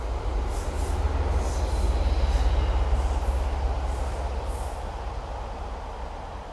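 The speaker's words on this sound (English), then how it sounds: "And now a train passes behind me as birds fly overhead." A train rumbles past at a distance with a deep, steady roar and rhythmic wheel clatter, slowly fading, and no one speaks.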